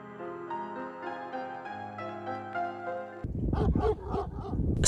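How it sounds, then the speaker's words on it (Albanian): Sustained tonal music gives way to a run of dogs barking in the winter village of Shishtavec, several quick, sharp barks at moderate distance over an open outdoor hush. "dëgjohen vetëm lehjet e qenve që lajmërojnë çdo kalimtar"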